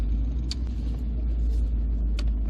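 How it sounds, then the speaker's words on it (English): A 1989 Volvo 240 2.0 GL estate with its red block engine hums along while driving: a steady, close, low rumble that holds even, with no talk over it. "Listen to more of that red block engine"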